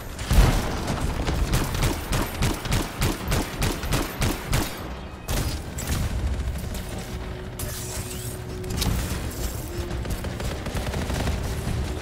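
Rapid bursts of automatic gunfire in the sci-fi shooter Anthem, loud and close, firing in a steady rattling rhythm for several seconds before breaking into scattered mechanical clatter and ability effects.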